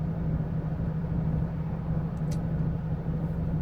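Traffic flowing along a dual carriageway, with a truck shifting lanes while other cars try to pass, heard as a steady, loud engine rumble and road drone that stays constant throughout with no voices.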